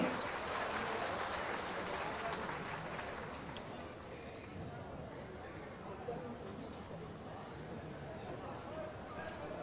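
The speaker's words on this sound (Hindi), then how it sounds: "आपके मार्गदर्शन के लिए जोरदार तालियों से अभिनंदन करें" An outdoor public crowd in Jamtara gives MLA Irfan Ansari a round of applause: dense, loud clapping at first that slowly thins and softens into a lingering spattering of claps.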